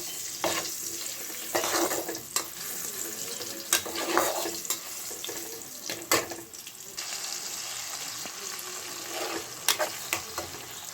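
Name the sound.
spice paste and fried potatoes frying in a kadai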